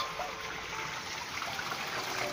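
Water draining steadily from a catfish tank, a continuous close rushing trickle that stays even throughout, with no voices.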